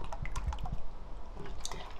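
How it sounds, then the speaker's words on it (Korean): Plum syrup pours from a cup in a kitchen while pickled chili peppers are being made, with a short wet trickle and splashes up close, and nobody speaks. "매실을 한컵 부어."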